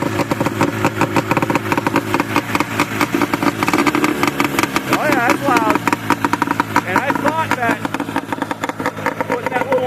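A Ski-Doo Olympique 377 snowmobile engine, rope-started, runs at a rough, rapid idle with a pulsing two-stroke rattle and occasional rises in revs, close and loud with a voice talking over it.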